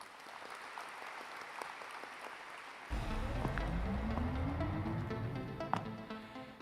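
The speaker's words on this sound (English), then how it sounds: "Chang Dae-hwan with a big round of applause." A large audience at the 2023 World Knowledge Forum opening ceremony applauds steadily, and the clapping swells louder partway through as music or fanfare rises beneath it.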